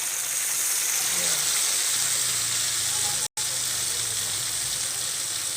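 Tempe gembus coated in Adabi flour frying in hot oil, a steady, close, loud sizzle that continues without a break apart from one very brief dropout.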